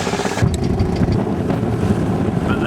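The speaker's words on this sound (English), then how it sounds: "Wind's just picking up here, so I'm going to pay some attention." Wind gusting across a small yacht, a rough broadband rush with flapping and water noise close to the microphone over a few seconds.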